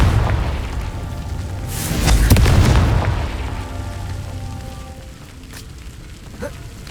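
A booming Confringo spell blast erupts in Hogwarts Legacy, a deep rumbling explosion swelling around the middle and fading into a low lingering roar, with a few smaller pops afterward.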